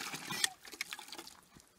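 Water running from a gravity-fed faucet at a cabin water system, a steady splashing pour heard close and fairly quiet for a couple of seconds, with no talk over it.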